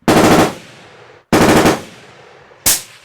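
Sniper rifle fire at a shooting range during a sniper competition, with three loud, close cracks spaced about 1.3 seconds apart, each trailing off in a long echoing decay.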